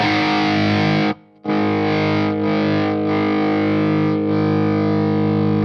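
Heavily distorted electric guitar through a Marshall Plexi amp holds thick sustained chords, briefly cut to silence once before ringing on, loud and saturated.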